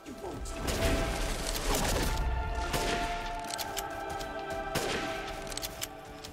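Gunfire from the Resident Evil Village video game, several loud shots and crashes over a dense game soundtrack, with voice dialogue running through it.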